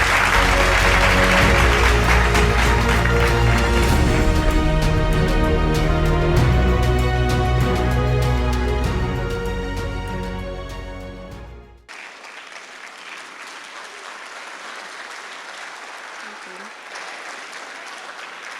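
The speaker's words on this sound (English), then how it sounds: "With a resounding round of applause, welcome Miss Constance Swaniker." Audience applause welcoming a guest on a talk show, starting loud with music over it, then fading to a quieter, steady patter of clapping from the crowd.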